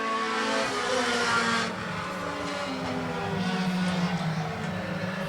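Race cars sliding sideways through turn one at Sweatt's Concrete Thunder concrete track, a loud sustained blend of revving engines with shifting pitches and a faint tire hiss, heard alone without talk.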